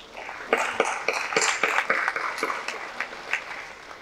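Audience applause at a Tamil film audio launch event, a modest, uneven burst of hand claps with distinct individual slaps, moderately loud and continuous for several seconds, no talk over it.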